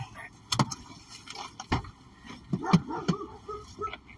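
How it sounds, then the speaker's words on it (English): A puppy gives a few short, sharp barks and yips inside a car during a drive, scattered and close, over road rumble and occasional movement. "Whoa, real barks."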